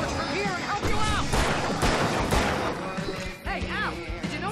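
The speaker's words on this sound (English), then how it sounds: "I can set off more of the fireworks from here and help you out" Fireworks go off on stage in the video game Alan Wake as a dense run of loud booms and crackling bursts, overlaid with whistling rises and voices.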